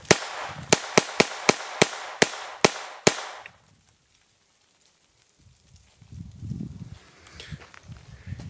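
A Colt 1911 .22LR SigSauer pistol fired about eight times in quick succession, loud sharp cracks at an even pace, then quiet and some faint shuffling.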